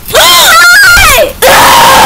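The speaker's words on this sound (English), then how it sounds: "I said hide, not scream," A video game character in the Backrooms lets out a loud, wavering scream lasting over a second, breaks off abruptly, then a second loud, sustained shriek follows.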